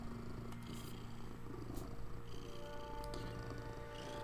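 A happy house cat purrs steadily in the morning, a soft continuous low rumble close by with faint scattered clicks and rustles, no talking.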